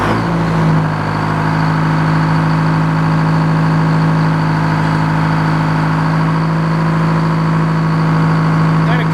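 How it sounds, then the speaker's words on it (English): A large sawmill engine runs at a steady idle, loud and close, with a constant low droning hum and no change in pace. "We got the engine warmed up"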